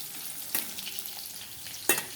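Soaked, unboiled soybean chunks fry quietly in oil with a low, steady sizzle, broken by two sharp clacks of a spoon stirring against the pan.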